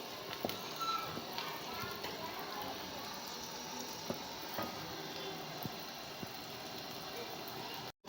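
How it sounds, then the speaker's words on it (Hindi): Onions frying in a pan give off a steady, close sizzle that holds at an even level throughout with no pauses, and no voices over it. "ये हमारे प्याज हो रहे हैं फ्राई"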